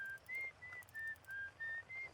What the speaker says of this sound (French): Oh, il y a un mec qui siffle.